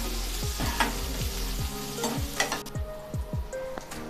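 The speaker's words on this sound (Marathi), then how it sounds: "हिंग, बारीक चिरून घेतलेली मिरची आणि लसूण, मिनिटभर आपण हे परतून घेऊया।" Asafoetida, finely chopped green chili and garlic sautéed and stirred in a pan while cooking dal palak, with a steady close sizzle, a low continuous hum and repeated knocks of a spoon against the pan.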